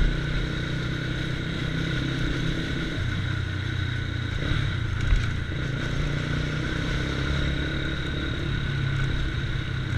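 A Mahindra Mojo motorcycle engine running loud in an enclosed space in Bangalore, a steady droning rumble that holds for the whole stretch with only slight swells, close and alone without talk.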